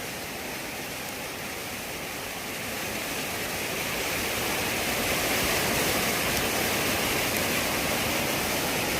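Floodwater from the swollen Jamda river surges through a usual summer bathing spot as a thick, constant roar that grows slightly louder partway through, heard alone without talk.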